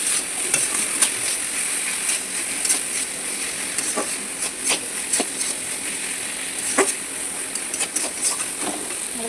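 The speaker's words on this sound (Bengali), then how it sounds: "দিয়ে ভালো করে কষিয়ে নেবো মশলাটাকে। যতক্ষণ না তেল বেরিয়ে যাচ্ছে" Masala with ground cumin fries in hot oil in a pan, a continuous sizzle broken by repeated scraping strokes of a spoon stirring it, close and with no talk.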